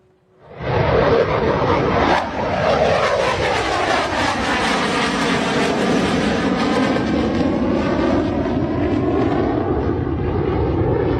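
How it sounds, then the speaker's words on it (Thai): An F-16 fighter jet roars overhead, a loud, continuous broadband rush that swells up quickly after a brief quiet start and holds powerfully for the remaining ten seconds. "ฟังกันชัดๆเลยนะฮะตั้งแต่เสียงของ F16 ที่บินแหวกอากาศเข้าไป ดังกระหึ่มทั่วน่านฟ้า"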